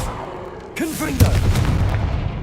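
In Hogwarts Legacy, a Confringo spell goes off as a sudden, loud blast with a booming, rumbling tail that carries on for about a second and a half. A voice is heard faintly around it.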